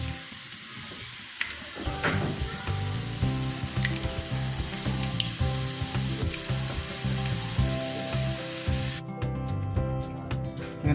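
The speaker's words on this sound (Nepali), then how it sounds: "मैले चाहिँ यसलाई फ्राई गरेँ।" Paneer samosas fry in hot oil with a continuous bubbling sizzle and crackle, steady and close. A brief scraping stir comes partway through.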